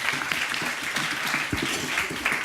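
Steady applause from an audience fills the room at the close of a school startup-club business plan presentation, even and continuous throughout.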